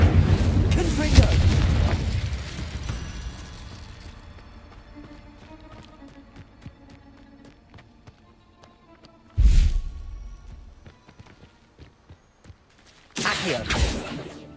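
A Confringo blasting spell explodes in Hogwarts Legacy, heard as heavy booming bursts: a loud rumbling blast at the start, then two sharp explosions later, separated by quieter game ambience.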